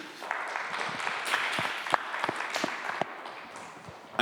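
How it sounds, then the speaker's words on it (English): Seminar audience breaks into a round of applause, a dense, steady patter of many hands clapping at moderate level for about four seconds, with a few sharper individual claps standing out and no voices on top. "So can we give them a round of applause, please?"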